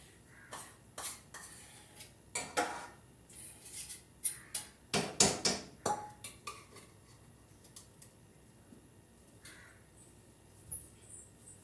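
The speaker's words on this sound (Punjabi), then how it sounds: "ਚਲੋ ਜੀ ਆਪਾਂ ਕੋਲ ਮਾਂਜਦੇ ਆ ਭਾਂਡੇ" Dishes and utensils clink and clatter in a series of sharp, irregular knocks, busiest in the middle, then trailing off into quiet.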